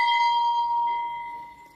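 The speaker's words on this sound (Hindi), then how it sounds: "तो घंटी बेल बजेगी" A bright electronic bell tone from a Hindu devotional electronic book, triggered by touching a temple picture, rings out, sustained and slowly fading over a couple of seconds, with a faint background hiss.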